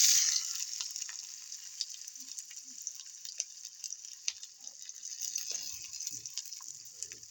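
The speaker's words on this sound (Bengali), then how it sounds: "তো আমি এখানে প্রথমে দিয়ে দেবো পেঁয়াজ কুচি" Chopped onions fry in hot oil in a wok, giving a bright, steady sizzle that starts loud and settles, with faint stirring scrapes and small knocks close by.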